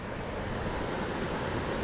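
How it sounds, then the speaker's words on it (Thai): A stream flows beside a campsite in Mae Wong National Park, giving a soft, continuous rushing of water with no other sounds. "เราอยู่กับริมทานเนี่ยได้ยินเสียงน้ำไหลนะ"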